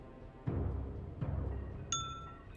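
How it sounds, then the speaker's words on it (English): A bright, clear bell ding rings once near the end, ringing on with a clean sustained tone after a couple of dull low thumps. "Bell ding."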